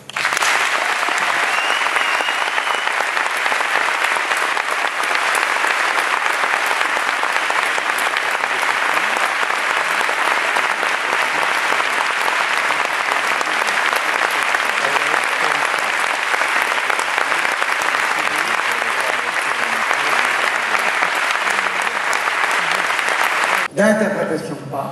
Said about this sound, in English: un long moment d'applaudissement en hommage à Oleg Sentsov